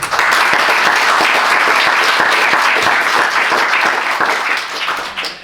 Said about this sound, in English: You'll go ahead and give her a round of applause.